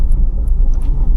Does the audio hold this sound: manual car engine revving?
yes